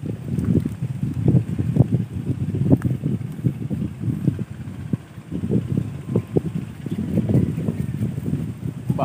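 Strong wind gusting outdoors beside a pool, a steady low roaring rumble with buffeting surges across the whole stretch, no voices.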